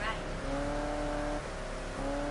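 A Chevrolet Camaro's engine in the Test Drive Unlimited Solar Crown racing game holds a steady drone with a brief dip and recovery, continuous and moderately loud.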